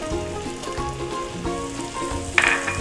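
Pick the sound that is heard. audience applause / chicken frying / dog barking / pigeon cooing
chicken frying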